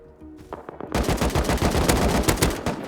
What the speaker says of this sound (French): Une tourelle au top,